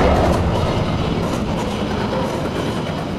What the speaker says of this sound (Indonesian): maaf teman-teman ada kereta